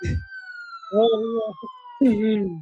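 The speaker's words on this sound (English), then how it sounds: "I gotta turn the siren on, Dalton." A police siren sound effect played on a sports talk show wails with a steady falling tone, while a voice speaks over it.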